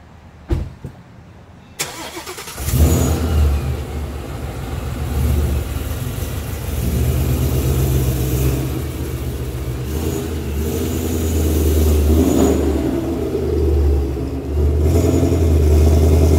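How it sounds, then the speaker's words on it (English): A Gen 3 Ford Mustang with a Coyote engine and an intake cam idle stumble cranks to life after a few quiet knocks, then settles into a loud, steady idle that sags and recovers now and then. "Turn the car around and see if you can hear the idle dip a little bit."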